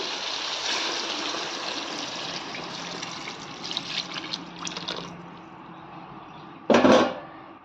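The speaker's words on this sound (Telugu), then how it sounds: "ఇందులోనే ఇప్పుడు మనము చింతపండు రసం అయితే వేసుకుందాము." Tamarind juice is poured into a pot of sambar, a continuous watery pouring and trickling that tapers off, followed by a brief clatter near the end.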